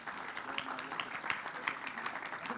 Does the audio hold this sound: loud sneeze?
no